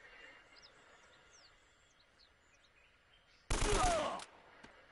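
A short burst of machine gun or AK fire in Uncharted: Drake's Fortune, loud and sudden for under a second, rising out of quiet jungle ambience with faint bird calls.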